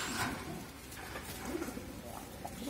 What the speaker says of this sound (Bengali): এই হলো আমার ছাদের নিচের 9 জোড়া থরের কবুতর